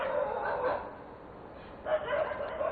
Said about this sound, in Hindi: उसके साथ ही जानवर भौंकना शुरू हुए हैं